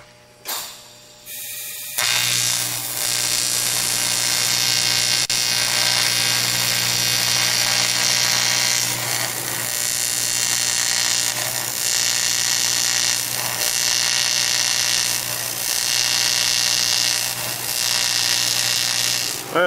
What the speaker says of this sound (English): Got this bung that I'm going to weld in here. Hopefully it welds alright.